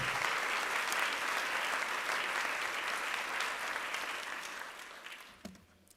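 Crowd applause at a college fall convocation celebrating a new STEM facility, a dense sustained wash of clapping that holds steady for several seconds before thinning out and fading near the end.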